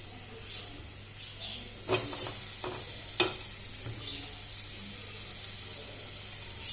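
Fish cook in chili-spiced oil in a pan, giving a soft, faint sizzle with a few scraping and stirring clatters near the start.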